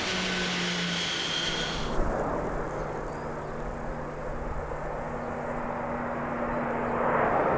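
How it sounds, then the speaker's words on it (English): Antonov An-225, the largest airplane ever built, passing overhead as a steady, loud broadband engine roar with a low hum that swells slightly near the end, no talk. "The Antonov 225, the largest airplane ever built."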